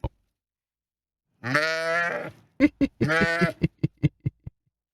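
A toy goat gives several bleats up close: a long wavering cry, then a burst of short, choppy bleats and a quick run of staccato blips trailing off.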